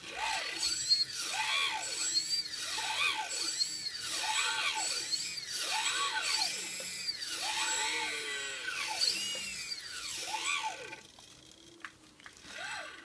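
A servo-driven single-axis camera gimbal moves back and forth, giving a faint whirring whine that sweeps up and down in a steady rhythm about every second, with no voices.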